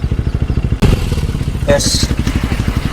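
A KTM 390 motorcycle fitted with a clip-on exhaust thumps at a close, rhythmic idle, with a sharp clunk early on and a brief spoken word over the engine.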